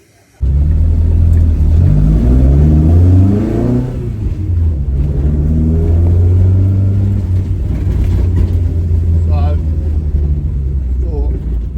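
A Ford Escort MK1, just repaired after a snapped half shaft, drives on a short test run. Its engine rumbles and revs hard at first, then settles into a steady running drone that carries on throughout.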